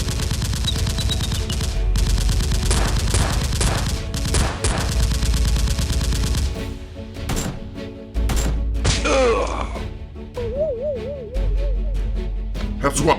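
Toy Nerf guns firing in a mock battle, with rapid bursts of sharp repeated shots and thumps up close, then quieter stretches broken by shouting voices and playful hooting.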